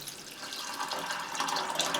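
Water pouring into a cooking pot of dried beans for Greek fasolada bean soup, set to soak overnight, a short gurgling, splashing stream that grows slightly louder as the pot fills, with no voices.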